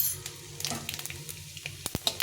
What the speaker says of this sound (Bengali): এটাকে একটু ভেজে নিতে হবে ফোড়নটাকে